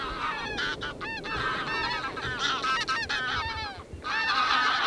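Flock of geese honking continuously overhead as they fly across fields on Orkney during wildfowling, a dense chorus of overlapping calls, fairly loud and steady throughout with no talk.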